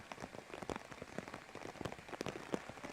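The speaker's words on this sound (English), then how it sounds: "the rain continuing to fall quite heavily out here" Heavy rain falling on an outdoor soccer match, a dense steady patter of drops on surfaces, close and continuous throughout.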